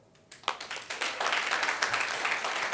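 An audience claps at a corporate event, a few scattered claps first, then steady applause building and holding for a couple of seconds, moderately close with no speech over it.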